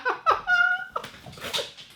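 An American Staffordshire terrier-type dog lets out a short, high whine or whimper, a couple of tremulous cries over about two seconds, fairly faint and close in a quiet room.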